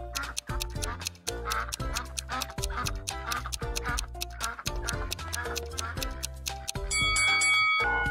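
Ducks quack loudly and close in a quick, rhythmic series of nasal calls, with a brighter tonal layer joining near the end.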